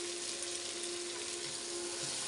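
Bitter gourd hits a hot pan with beef, garlic and onions, giving a steady, loud hiss and sizzle of frying that holds evenly throughout, with no talking.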